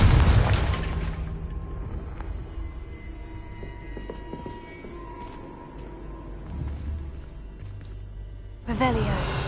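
The Confringo fire spell explodes in Hogwarts Legacy with a deep, loud boom right at the start, fading into quieter game sounds, then another burst near the end.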